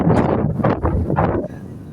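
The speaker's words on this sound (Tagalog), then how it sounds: "So, taas po ng hangin ngayon." Strong storm-force wind gusts buffet loudly, roaring and rustling in several surges close to the microphone, as if whipping a flag flown high outdoors.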